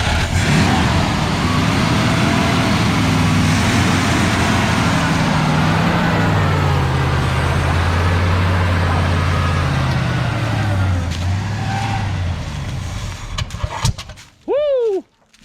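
A 1968 Ford F100 pickup engine runs loud and close with a rough, low rumble that shifts pitch as it revs and settles, then cuts out near the end, followed by a short burst of other noise.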